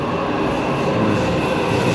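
A train rumbles steadily into a station in Washington, DC, giving a loud, continuous roar of wheels and carriages with no pauses or voices.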